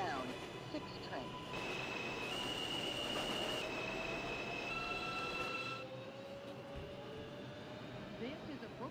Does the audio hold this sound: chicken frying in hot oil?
no